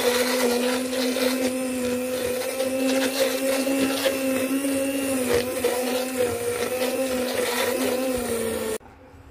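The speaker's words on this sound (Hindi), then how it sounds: "ये हैंड ब्लेंडर से इसको ब्लेंड कर लेंगे।" A hand blender whirs steadily through oats and water in a home kitchen, a loud, continuous motor hum with slight changes in pitch as it churns. It cuts off abruptly near the end.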